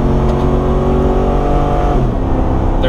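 High-mileage Ford F250 with a 6.2L gas engine at wide open throttle while towing a trailer up a grade, a loud sustained engine roar heard from inside the cab, with pitch rising steadily and a brief shift near the end.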